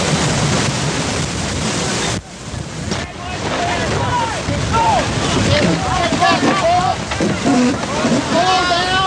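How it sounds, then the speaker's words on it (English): Strong wind buffets the microphone over heavy 15-foot seas aboard a sailboat racing off Cape Flattery in the Swiftsure ocean race, a loud continuous rushing roar with crashing water, and voices heard faintly under it. "It takes good sailors to do it in 15-foot seas and winds in excess of 30 knots"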